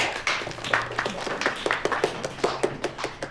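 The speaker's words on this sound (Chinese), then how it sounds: "来了个新同事，鼓鼓掌" Office editors welcome a new colleague with a short burst of brisk hand clapping from a few nearby people, uneven sharp claps overlapping for a few seconds.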